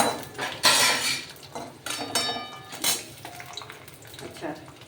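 Grated coconut browning in a pan is stirred with a metal utensil, giving a series of bright scraping clinks and clatters against the pan, irregular and close, with a voice speaking faintly underneath.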